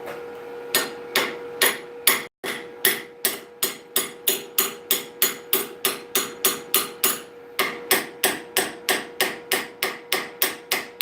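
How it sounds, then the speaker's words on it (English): Rhythmic hammer blows ring out on an anvil during forge welding, about two strikes per second, each a sharp metallic clang with a brief ringing tail, close and loud, with one short pause partway through. "That's how a weld should sound."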